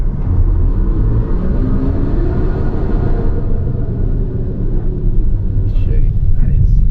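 A medium SUV in front-drive trail mode labours up an off-road climb, its engine a loud, close rumbling drone that rises and strains, with someone speaking briefly over it.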